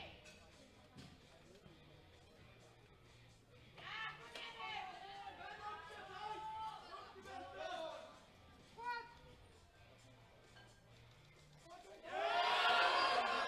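A crowd at a women's junior powerlifting world championship cheers and shouts to rally behind a lifter, faint chatter swelling into scattered whoops and ending in a loud burst of cheering.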